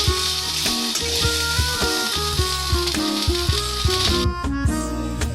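Chanda fish dusted with turmeric fry in a pan with a loud, dense, close sizzle that never lets up. Rhythmic scraping and rattling stir strokes sound over it, and there is no speech.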